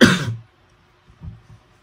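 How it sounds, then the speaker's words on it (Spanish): A single harsh cough at the start, followed after a pause by a couple of softer, lower throat-clearing coughs. "y no es seca la tos."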